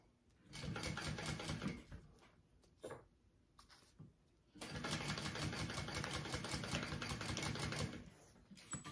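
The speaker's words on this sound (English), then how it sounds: "sew that on, or baste it on, I guess" A sewing machine bastes a petite fold-and-zip backpack, running in two steady rapid-stitching bursts, a short one and then a longer one, separated by a brief pause with a few clicks, nearby and free of speech.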